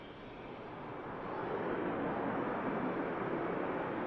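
An EasyJet airliner rolls for takeoff at Manchester Airport, a steady broadband jet roar that swells gradually, heard from a distance without voices.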